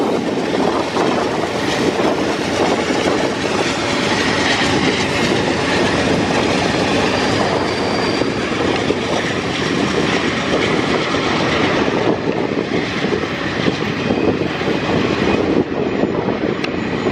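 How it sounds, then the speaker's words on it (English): Continuous loud rumble and rattling clatter of a slow-moving Q freight train, heard from aboard while riding, steady broadband roar with metallic squeals throughout and no talking. "we'll just go catch the first Q train again in town"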